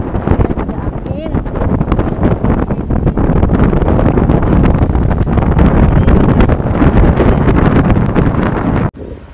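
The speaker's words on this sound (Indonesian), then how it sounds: "Ada angin." Strong wind at Maroubra Beach buffets the microphone in loud, gusty rumbles and crackles, continuous until an abrupt drop at the end, with a voice speaking over it.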